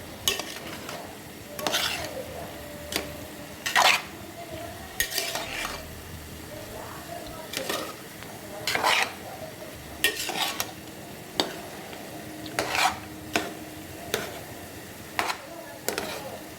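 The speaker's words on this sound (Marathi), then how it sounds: "आता ह्या भाज्या व्यवस्थित ह्या राईसमध्ये मिक्स करून घेऊयात" Vegetables being stirred into rice for veg pulao in a pot, repeated scraping and clinking strokes of a spoon against the pan at an irregular rhythm over a soft background sizzle, close and fairly clear.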